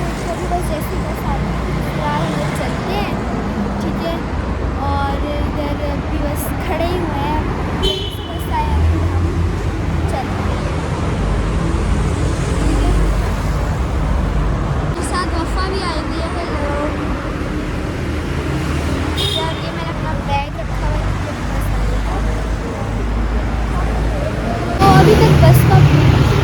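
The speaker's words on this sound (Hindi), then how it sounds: "अभी हम लोग आए हुए हैं मेरे बस स्टॉप पे" Busy roadside traffic at a bus stop, with vehicles rumbling and passing continuously and horns now and then, under nearly constant talking close by.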